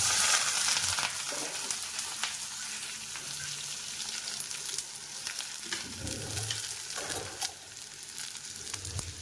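Chillies fry in hot oil in a village kitchen, a steady crackling sizzle with occasional stirring scrapes, heard close and continuous with no voices.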